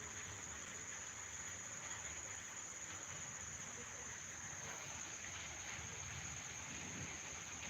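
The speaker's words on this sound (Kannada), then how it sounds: "ನೋಡಿ ಮಳೆ ಯಾವ ರೀತಿ ಬೀಳ್ತಾ ಇದೆ ಅನ್ನೋದು" Rain falls steadily in Raybag. It makes an even, continuous hiss that stays the same throughout, fairly soft and with no voices over it.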